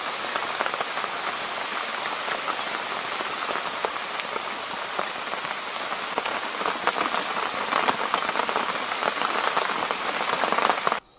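Steady rain falls in the woods around a tent camp, a dense, continuous patter and hiss that stays fairly even throughout with no voices.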